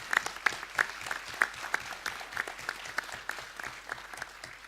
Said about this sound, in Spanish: les pido un fuerte aplauso a nuestros 5 panelistas